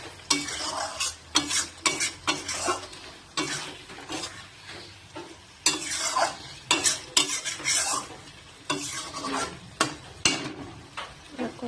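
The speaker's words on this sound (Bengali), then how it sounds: "ধনেপাতাটা ভালো করে কষাবো।" Fish with coriander leaves frying and being stirred in a pan, a steady sizzle broken by repeated scraping strokes of a spoon against the metal, close and fairly loud with no talking.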